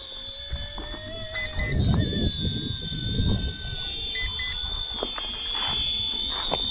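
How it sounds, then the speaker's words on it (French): A low-battery warning from an ERA C190 RC model aircraft sounds as a steady high-pitched electronic tone with short beeps. It is heard outdoors under a faint voice and background noise. "c'est la batterie faible, alerte de batterie faible"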